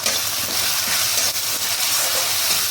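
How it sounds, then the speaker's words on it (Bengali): A paste of chili, cumin and ginger fries in a pan with a dense, constant sizzle and hiss up close, loud and unbroken, with no voices. "এবার মশলাটাকে ভালো করে কষাবো"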